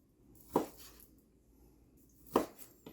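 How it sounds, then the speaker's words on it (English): A knife cutting flank steak on a board for a stir fry, two distinct soft chopping thuds about two seconds apart, close and fairly quiet, with no talking. "I'm going to cut off some more of the flank steak"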